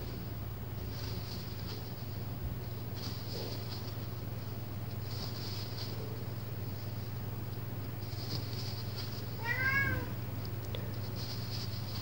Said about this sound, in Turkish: Kedim de yanıma gelmek için kapıdan bana sesleniyor.